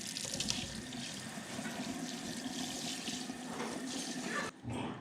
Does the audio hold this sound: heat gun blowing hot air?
no